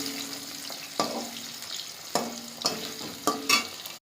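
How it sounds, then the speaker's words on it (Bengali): Potato pieces frying in a pan after fish, with a spatula scraping and stirring them in several distinct strokes over a low continuous sizzle, close and moderately loud. "আলুটা ভেজে নেবো তো লাল লাল করে"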